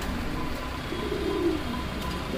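Homing pigeon giving a soft, low coo, moderately close, over steady outdoor background noise with no talk.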